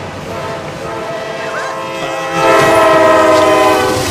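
A train in a film scene roars and blares its horn, the rumble swelling louder halfway through with sustained horn tones over rail noise.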